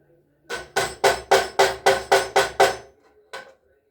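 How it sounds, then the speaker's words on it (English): A small hammer taps a pulley on a Pontiac wheel bearing job, striking about eight quick, even metallic blows in a steady rhythm, then one softer tap after a brief pause, close and clear with no talk. "The little hammer."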